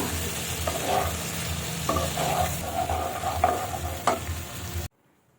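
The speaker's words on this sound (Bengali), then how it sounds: "এখন কিন্তু সোয়াবিনগুলো একে একে দিয়ে দেব এবার একটু কিন্তু ভালোভাবে নাড়াবো" Close, steady sizzling of soybeans frying in a pan, with scraping and clinking as they are stirred, stopping abruptly near the end.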